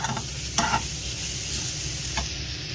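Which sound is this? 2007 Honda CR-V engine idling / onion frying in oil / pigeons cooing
onion frying in oil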